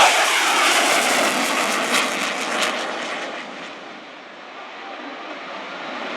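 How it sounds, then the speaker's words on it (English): An Italian Air Force Eurofighter Typhoon fighter jet rolls into its takeoff from brake release, a loud, broad jet roar that swells and then eases slightly as it moves off, heard alone without talk. "taking off with the Eurofighter of the Italian Air Force fighter"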